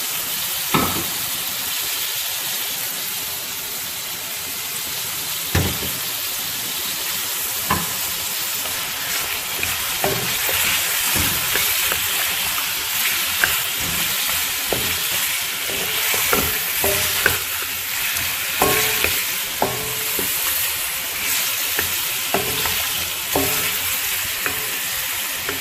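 Chicken karahi with tomatoes and green chillies stir-fries in a pan with a loud, steady sizzle and hiss, broken by frequent sharp clanks of a spatula against the metal, close and without speech.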